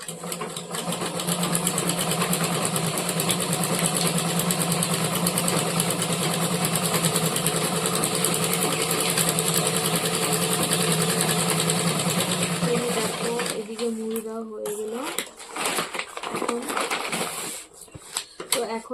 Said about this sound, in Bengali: একটু প্রণাম করে এখন আমি মেশিনটা স্টার্ট করব